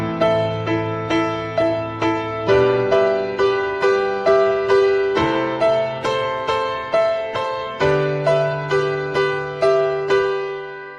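A piano plays full chords with the left hand beneath a right-hand melody, a steady pulse of struck chords continuing for several bars with no voice.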